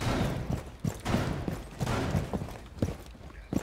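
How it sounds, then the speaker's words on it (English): Rapid bursts of gunfire in Rainbow Six Siege shoot out a window, sharp repeated shots in uneven clusters, close and loud. "I'll shoot out the window so we can shoot in."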